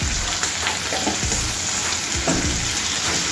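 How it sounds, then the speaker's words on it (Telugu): Ingredients frying in oil over medium flame for fried chapati, giving a loud, steady, close crackling sizzle with occasional stirring scrapes and no talk. "ఇవన్నీ కూడా ఫ్రై అవ్వాలండి"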